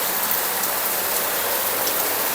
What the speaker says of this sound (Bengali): বৃষ্টিটা দেখেন কত সুন্দরভাবে বোঝা যাচ্ছে